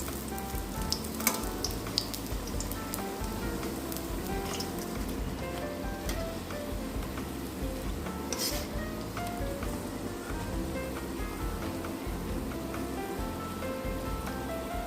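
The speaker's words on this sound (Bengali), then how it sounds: "আমি বাকি বড়াগুলো এইভাবে ভেজে দিচ্ছি" Battered spinach pakoras deep-frying in hot oil give off a dense, continuous bubbling sizzle at moderate volume, close by, with a few sharper pops and faint stirring; no speech.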